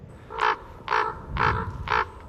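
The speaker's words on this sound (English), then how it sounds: "there's just a calling raven then" A raven croaks four times at an even pace over fields, hoarse calls carrying clearly over faint outdoor background noise.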